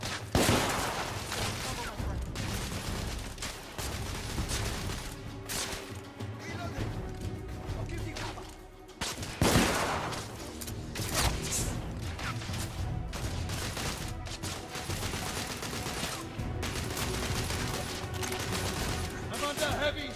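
Heavy gunfire rages in The Order: 1886 as continuous loud volleys of shots and crashing impacts, with dense overlapping bursts and voices shouting over the combat throughout.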